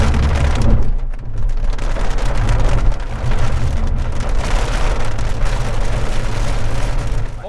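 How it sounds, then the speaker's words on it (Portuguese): Heavy rain pours down across the American Midwest in a steady, loud, dense roar, with deep low rumbles that suggest distant thunder underneath and no voices. "Chuva no meio oeste americano."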